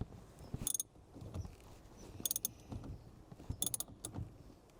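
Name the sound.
ratchet tightening steering shaft bolt on Ford Mondeo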